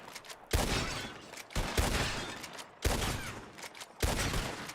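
Four loud, sharp revolver shots at bottles in Red Dead, evenly spaced about a second apart, each with a brief echoing tail, and no talking.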